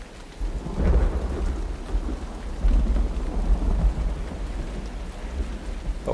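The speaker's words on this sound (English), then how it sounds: "Storm has definitely rolled in." Thunder rumbles over steady heavy rain in the video game URU, a deep rolling storm with rain hissing on surfaces and loud low swells throughout, with no voices.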